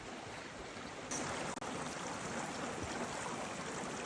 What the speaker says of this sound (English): you're gonna come across a little stream